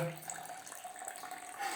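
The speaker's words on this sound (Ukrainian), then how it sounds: "я користуюсь ложкою, підставляю її, щоб воно розбризкувало гарячу воду" Hot water at about 82 °C is pumped from a conical tank and splashed off a spoon onto the grain bed while brewing a pale barley Keller Bier. It makes a short, steady splashing trickle, like a running tap.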